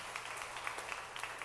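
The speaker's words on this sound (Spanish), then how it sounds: "Dale un aplauso al Señor por su misericordia." Applause from a church congregation praising God, a steady dense patter of many hands clapping at moderate level with no pauses across the moment.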